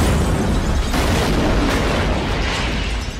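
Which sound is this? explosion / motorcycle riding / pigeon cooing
explosion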